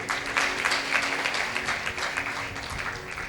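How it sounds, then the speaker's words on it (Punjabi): A sermon congregation claps together, a brief, fairly quiet patter of many hands at a steady rhythm without voices. "ਤਾਲੀ ਮਾਰੀਏ ਜ਼ੋਰ ਦੇ ਨਾਲ"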